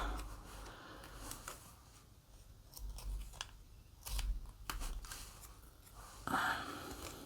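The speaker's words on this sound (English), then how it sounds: "My scissors are getting a little bit on the sticky side at this point." Sticky scissors snip through fabric for a fisherman's basket cover, a quiet, close series of irregular cuts with faint rustling between them.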